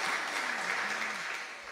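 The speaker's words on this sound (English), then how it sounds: "Yes, you can applaud for this one" Audience applause at a food film festival talk, a dense steady wash of many hands clapping at moderate distance, holding evenly before easing slightly at the end.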